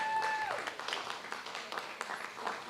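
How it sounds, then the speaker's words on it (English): An audience at a school board meeting applauds students, a short burst of steady clapping with a faint sustained tone fading out at the start. "Big round of applause. Well done."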